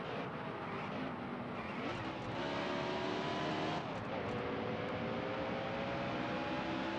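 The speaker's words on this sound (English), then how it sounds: "the gearing change helped, but unfortunately we are still downshifting" A race car engine in a racing video game set at Richmond drones steadily at high revs, its pitch dropping sharply twice as it downshifts, then climbing again, alone without talk.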